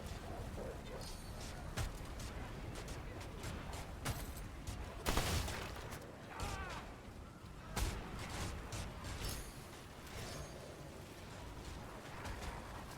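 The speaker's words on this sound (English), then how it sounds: "There's an awful lot of rifles going off." Rifles go off repeatedly in the video game Remnant 2, a fairly quiet, scattered volley of gunshots with a few louder cracks, and a player talks throughout.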